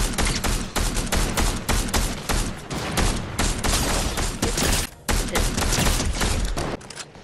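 Dense, relentless enemy gunfire in a Star Wars battlefront-style video game, loud rapid shots cracking continuously for several seconds with barely a pause.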